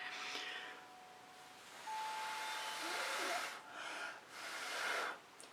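A hair dryer blows fluid acrylic paint over a coaster-sized surface, a soft airy hiss that comes in several bursts and pauses, fairly close and faint.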